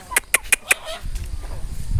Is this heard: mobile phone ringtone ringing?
no